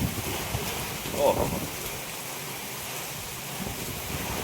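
Heavy rain driven by strong gusting wind in Porbandar, a steady broadband roar with a brief louder gust near the start and a short exclamation from a nearby voice.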